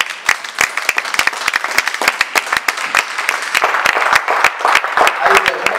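Church congregation applauding to acclaim the Lord, a steady loud round of close, sharp hand claps filling the room, uneven in rhythm and lasting throughout.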